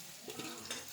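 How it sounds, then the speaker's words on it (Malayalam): Food sizzles in a pan while being stirred, with a steady, soft frying hiss and a few brief scraping stirs close by. "കുറച്ച് നേരം ഒന്ന് വഴറ്റിയിട്ട് ഫ്രൈ ചെയ്യാൻ കുറച്ച് നേരം വയ്ക്കാം"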